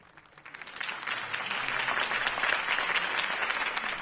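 Crowd applause at a political campaign speech for Harvey Dent in the Batman Telltale video game, rising from a quiet start into sustained dense clapping from a large audience for about four seconds.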